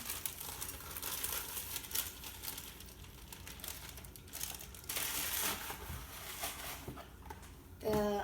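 Cake mix is tipped from its packet into a bowl, producing soft crinkling and rustling of the bag with a few scraping bursts, fairly quiet and continuous, ending in a louder crinkle.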